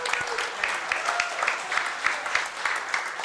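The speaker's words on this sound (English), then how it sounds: "give him a round of applause." A live crowd at a Chicago party-style pizza and wings event claps in a steady round of applause, dense and continuous with faint voices mixed underneath.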